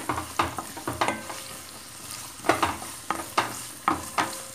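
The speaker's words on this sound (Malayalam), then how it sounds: "അങ്ങനെ ഉള്ളി വെളുത്തുള്ളി ഒരു നടുവായി കീറിയത് നല്ലപോലെ നമുക്ക് വഴറ്റി എടുക്കാം" Onion and garlic sauté in a pan for mutton mappas, with a steady sizzle broken by repeated scraping strokes of a spoon stirring the pieces, close and fairly loud, no voices.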